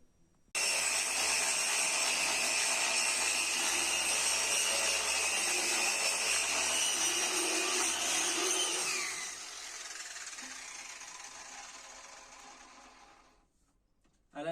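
A power sander runs steadily and loudly on a wooden table top for about nine seconds, then its pitch drops as it winds down and fades to near silence.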